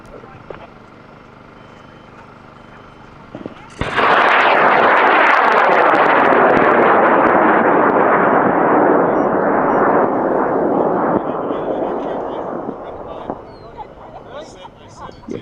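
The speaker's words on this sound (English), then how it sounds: "we're going to put his rocket up in 5, 4," A high-power rocket ignites with a sudden loud roar that holds steady for about eight seconds, then fades gradually as it climbs away into the distance.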